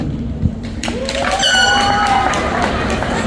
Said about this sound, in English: you're going to cheer and clap if you want Speech A, ChatGPT version